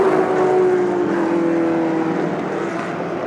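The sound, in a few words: Shelby race car engine at full throttle going uphill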